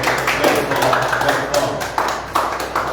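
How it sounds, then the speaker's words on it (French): Scattered hand claps and tapping from a small audience at a radio station gathering, uneven bursts with a low hum underneath, fairly close and loud. "Mais encore une fois, on applaudit"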